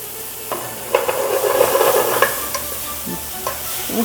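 Pasta tossed in a frying pan with butter and olive oil gives a steady light sizzle, with a few sharp utensil scrapes and clinks over it. No one speaks.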